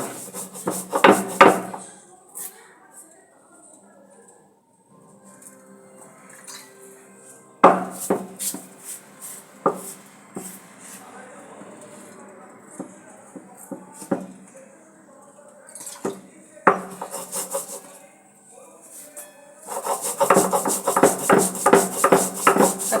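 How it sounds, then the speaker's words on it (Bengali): Mustard seeds and salt are ground by hand on a stone, producing bursts of rough scraping and rubbing strokes with knocks, pausing between rounds and growing busier toward the end. "সর্ষেটা বেটে নিলাম, সর্ষে লবণ ওগুলো বেটে নিলাম।"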